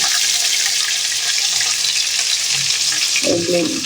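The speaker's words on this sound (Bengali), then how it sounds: "সবগুলো ভেজে নেব ভেজে নেওয়া" Food frying in a pan for a home-cooked chicken and biryani meal, a loud even hiss throughout, with a short clatter of utensil stirring near the end.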